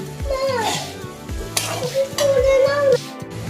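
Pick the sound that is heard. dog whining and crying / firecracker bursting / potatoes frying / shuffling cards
potatoes frying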